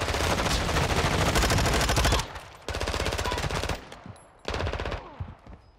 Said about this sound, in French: Qui tire là?